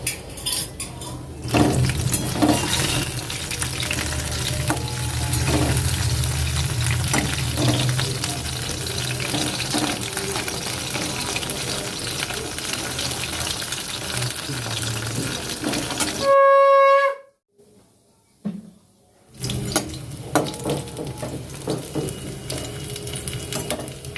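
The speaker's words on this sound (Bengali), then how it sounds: "চল হাতটা ধুয়ে আসি।" Steady rush of running tap water as hands are washed at a kitchen sink, continuous and fairly loud for most of the stretch, cut by a brief near-silence with a faint tone before the water resumes.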